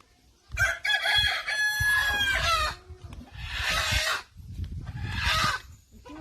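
Chickens cluck and a rooster crows in bursts, fairly close, as a hen is settled to brood, with brief pauses between calls and no talking.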